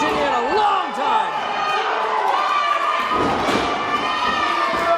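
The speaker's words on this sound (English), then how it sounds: "War Machine getting the crowd into it" A wrestling crowd in Hinton, West Virginia cheering and shouting loudly during a tag team match, children's high yells mixed with a roaring mass of voices, while a commentator talks over it.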